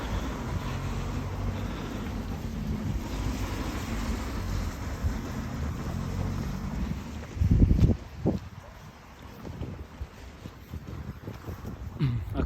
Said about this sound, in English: it's a little bit windy tonight